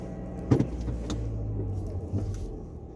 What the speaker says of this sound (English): You ever hear of letting your vehicle warm up?